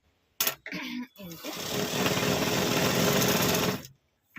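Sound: sewing machine stitching the hem of leggings

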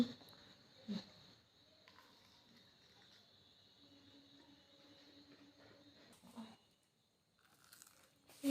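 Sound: Kurkure snack packet crinkling and crunching

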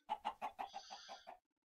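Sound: chicken clucking in Minecraft (video game)

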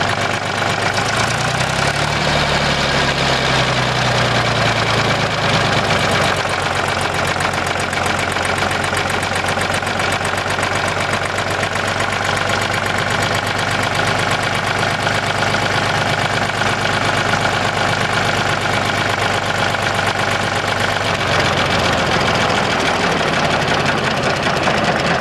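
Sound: Porsche Diesel Super 308 tractor engine idling

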